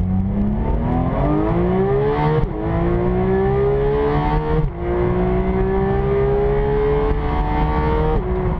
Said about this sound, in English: this sort of hard mechanical valve train noise that comes through, that is addictive